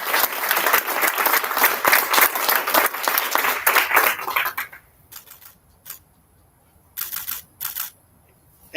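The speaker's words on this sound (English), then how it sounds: "One last round of applause." An audience at a board meeting gives a round of applause, steady dense clapping for about four and a half seconds that then breaks into a few scattered, sparse bursts with quiet gaps.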